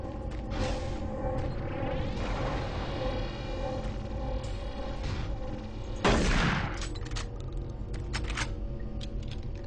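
Shotgun fire in the Doom 3 video game: a sharp, loud blast around the middle over a dense, rumbling game soundscape with mechanical clatter, plus a few fainter earlier shots.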